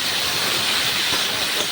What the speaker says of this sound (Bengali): এবার তেলটা গরম হলে কপিগুলো দিয়ে একটু ভেজে নেব